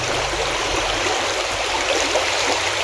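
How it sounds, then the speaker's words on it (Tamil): Loud, continuous rush of flowing river water, steady and close, with no voices. "நான் ஆற்று தண்ணி ஓடுற நடுவில் பகுதியில் நிற்கிறேன்"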